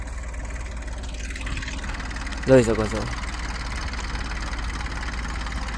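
A tractor idles on a farm with a constant low, even rumble in the background while someone briefly talks over it.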